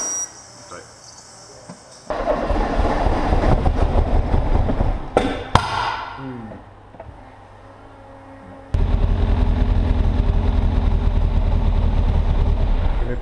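A Mk1 Ford Fiesta XR2 with a fresh EFI conversion cranks and then starts, with loud rough engine bursts and a sharp clatter between them, close by, as people talk over it.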